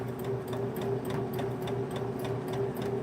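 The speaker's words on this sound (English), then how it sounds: "I'm just going to sew and do a back stitch right here." A sewing machine runs a back stitch on fabric for a DIY clothespin bag, a steady motor hum under fast, evenly spaced needle clicks that keep a regular rhythm, close and alone with no voice.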